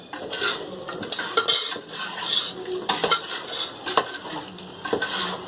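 An onion, tomato and green chilli mixture with mutton stock added is stirred in a pot over a wood-fire stove for mutton biryani, with repeated metal spoon scrapes and clinks over a soft simmering sizzle, close by.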